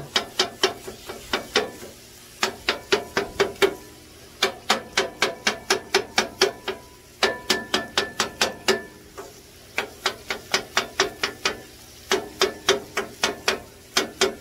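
A metal scraper chops a beef patty on a flat griddle in fast bursts of sharp, rhythmic clacks, loud and close, with short pauses between runs.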